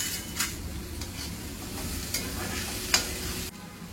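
Curry leaves dropped into sautéed onions and tomatoes in a hot pan give a steady close sizzle, with a few sharp crackles and stirring scrapes along the way.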